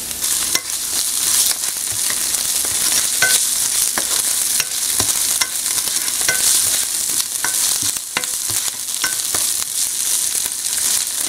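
Onion, garlic and tomato paste fry in a pot as the base for Haitian-style oxtail, giving a steady close sizzle broken by frequent sharp scrapes and taps of a stirring utensil, with no talking.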